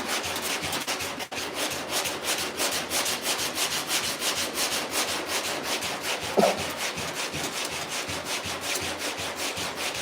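A sanding pad rubs back and forth over a car fender in a steady, rapid rhythm of close, rasping strokes, with a brief knock partway through and no talking.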